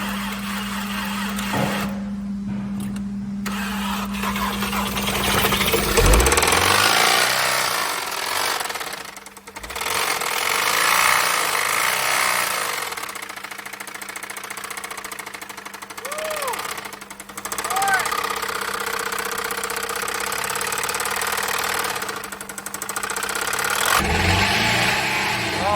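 Volkswagen 2.0L EA888 engine run low on oil, revving and idling with a loud, rapid metallic knocking throughout, several throttle blips and dips, close up with a few voices briefly in between.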